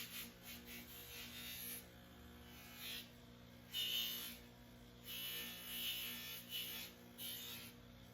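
Faint repeated rubbing strokes of 400 grit sandpaper on the inside of a Kydex knife sheath, soft bursts of hiss over a steady background electrical hum, no talking.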